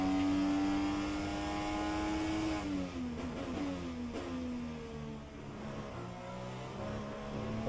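An IndyCar on Circuit Zolder in rFactor 2 holds a high, buzzing engine note, then backs off with a falling pitch and rises again as the throttle is worked, loud and close throughout.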